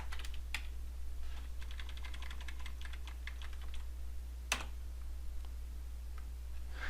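Quick keystrokes tap on a computer keyboard in a short burst, then a few scattered clicks, faint and close over a steady low electrical hum.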